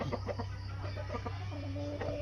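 Chickens cluck and murmur softly in a backyard coop under a steady low hum, short throaty notes scattered through the moment.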